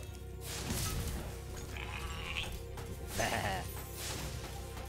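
Sheep bleat repeatedly in the video game Spyro Reignited Trilogy, with several wavering cries over a busy background of game music and effects.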